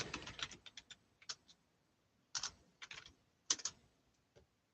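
Someone types on a computer keyboard in short, quiet bursts of clicking keys separated by pauses, close by and fairly soft, with no voices.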